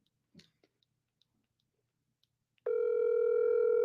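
An iPhone call rings out loud and steady after a few faint clicks and rustles, the tone starting partway through and holding to the end with no talking.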